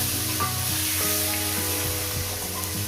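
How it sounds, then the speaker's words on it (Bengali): Chopped tomato with turmeric fries in a pan, giving a loud, continuous close sizzle while being stirred briefly, with a low steady hum running underneath. "কয়েক সেকেন্ড একটু নাড়াচাড়া করে নেব"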